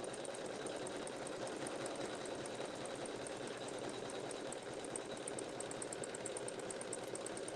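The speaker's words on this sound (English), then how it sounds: "I'm using a Janome sewing machine" A Janome sewing machine stitches with a faint, continuous, rapid mechanical whir and fine ticking, steady throughout with no pauses.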